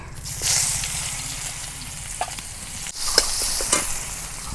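Chopped onion hits hot oil in a pan and sizzles steadily, with stirring scrapes and a louder burst of frying partway through, close and alone without voices.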